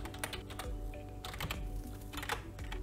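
Code being typed on a computer keyboard, quick irregular bursts of key clicks close to the microphone, alone without speech.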